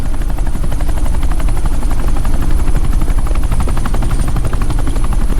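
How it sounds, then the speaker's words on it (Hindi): A helicopter is heard close and very loud, its rotor thudding in a fast steady beat through the whole clip, with no voices. "ये हेलीकॉप्टर सीधे एयरपोर्ट के टारमैक पे लैंड होगा।"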